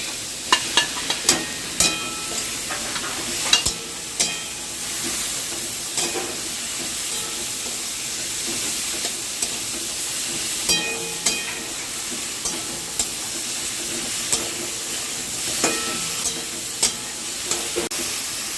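Okra frying in a pan with Kashmiri chilli, ahead of prawns, giving a loud, steady sizzle broken by repeated scraping and clinking from stirring, with no voices.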